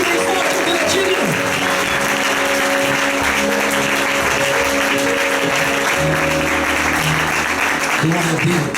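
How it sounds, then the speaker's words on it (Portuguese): A church congregation claps loudly during a family worship service, a thick, sustained roar of many hands with voices mixed in and a steady tone humming underneath. "Pode aplaudir bem forte, porque Ele é digno."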